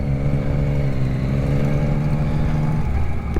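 A 2023 Yamaha MT-09 SP motorcycle engine running under throttle on the road, a loud, steady close-up engine drone with a held tone that drops near the end, mixed with wind rush.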